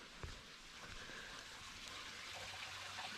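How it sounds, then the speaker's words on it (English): A small waterfall in a Scottish forest trickles in a faint, steady wash of water that stays even throughout, with no voices. "Must be a little trickle of water coming over the waterfall."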